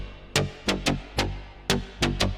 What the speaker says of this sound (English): I just took like a basic saw patch here and created this groove with the low pass filter to layer it ever so delicately underneath everything